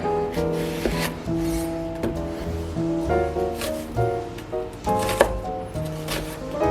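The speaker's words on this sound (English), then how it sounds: "We start with the onion. Cut it in half." Knife chopping an onion on a cutting board while making Lebanese tabbouleh, with a run of quick, close, fairly soft cuts over a background of tonal music.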